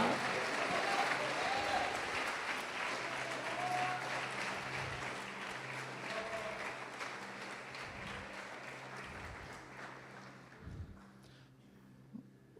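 A church congregation applauds at a worship service, a dense sustained wash of clapping that holds steady for most of the stretch and then thins out toward the end, with a few scattered claps trailing off.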